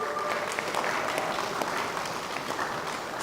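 An audience applauding at an inclusivity event, a dense, steady wash of clapping that fills the whole stretch at a consistent level with no voices.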